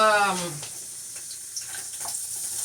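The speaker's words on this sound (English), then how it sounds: "peppers y onions and peppers, red peppers. We're gonna do saute." Sofrito of onions and red peppers sautés in a pan with a steady, close hiss of sizzling oil, following a brief voice at the start.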